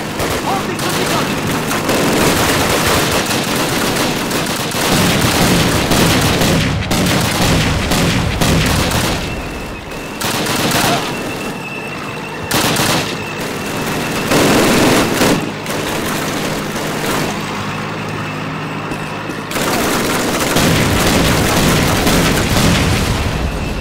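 Sustained machine gun and anti-tank rifle fire in a Call of Duty battle, dense overlapping bursts and heavy booms almost continuously, with brief lulls and shouted voices mixed in.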